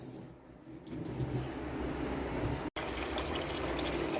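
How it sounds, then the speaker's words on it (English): Running water splashes steadily while turkey necks are washed for a brown stew, a continuous close rush with a very brief break partway through, and no talking. "I get it washed, we clean it up. So me I wash it here now"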